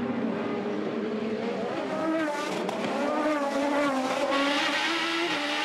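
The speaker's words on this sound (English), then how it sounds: "Working their way onto the back straight, just off turn 4, up through the gears." 2008 IndyCar race cars accelerate off turn 4 onto the back straight, engines whining up through the gears in a loud, continuous roar with rising pitch sweeps that layer over one another.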